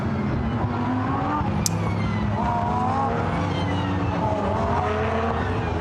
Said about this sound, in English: So 2 Lamborghini Super Trofeo that will lead us down to the first corner.